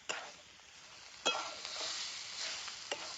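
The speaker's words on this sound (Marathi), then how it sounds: "आता हे वाटण वाटलेलं त्यात टाकून घेते. ते बी चांगलं त्याच्यात परतून घेणार आहे." Ground masala paste sautéed with Bombay duck and onion in a pan, a faint, steady sizzle broken by a few soft scrapes of a spoon, fairly quiet with no talking.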